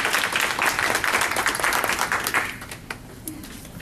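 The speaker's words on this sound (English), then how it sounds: "Can we give all of our speakers a round of applause?" A workshop audience at a graduate school claps for a group of speakers. Moderate, steady applause carries for a couple of seconds, then fades into a few scattered claps.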